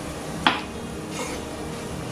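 Onions and Kashmiri chili powder stirred in a pan, a single sharp clink of a utensil against metal followed by a soft scrape over a low steady sizzle.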